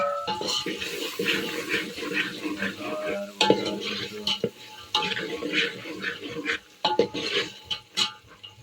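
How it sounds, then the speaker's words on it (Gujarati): Green pigeon peas (tuvar) being tempered in hot oil in a pan, a steady crackling sizzle with bursts of stirring and scraping, close and fairly loud, no talking. "લીલા તુવેરના દાણા મિત્રો. વઘાર છે મિત્રો."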